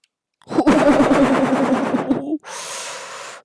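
Gunfire in the Fortnite video game: a loud, rapid burst of automatic shots lasting about two seconds, followed by a short stretch of harsh, hissing noise.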